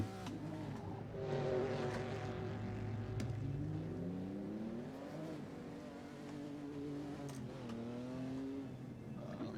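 A 1970s Trans Am race car engine in a racing video game, revving up and down in steady sweeps through the gears at moderate level, with no talk over it.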